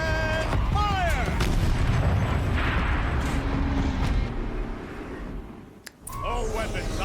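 A large turret fires in Horizon Zero Dawn with heavy booming blasts and rumbling mechanical noise, alongside game voices speaking, then a brief lull before another sharp burst of whirring, chirping machine sounds.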